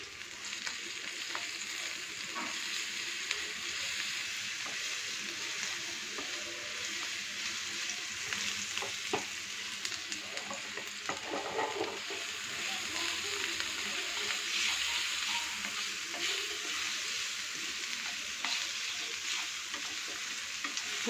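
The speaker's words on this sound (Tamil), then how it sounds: "வெங்காயம் வதங்கினதும் இஞ்சி பூண்டு" Onion, ginger and garlic sautéing in a pan for a cauliflower egg fry, a steady close sizzle with occasional stirring scrapes, continuous throughout with no talk.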